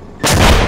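An RPG fires in the military shooter ArmA 2, a single sudden loud boom that bursts in abruptly and sustains as a heavy, rumbling blast through the rest of the brief moment.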